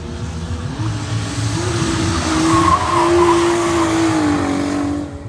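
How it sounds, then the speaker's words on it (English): A Nissan Skyline R33 drift car with a misfiring, power-down engine screams through a long drift, sustained engine whine and tire squeal rising then fading, loud and alone. "The car is misfiring. It's down on power."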